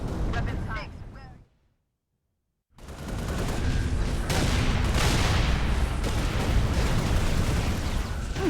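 Gunfire and explosions roar through a battle in Halo: Reach on Legendary difficulty, dense and loud, broken by a brief silent gap before the heavy barrage resumes under game voices.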